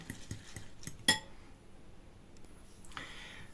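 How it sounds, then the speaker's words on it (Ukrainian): Spoon clinking and scraping in a bowl while stirring oat flakes with ham and cheese, several close, light taps and one sharp clink, with quiet gaps between. "Все це перемішуємо"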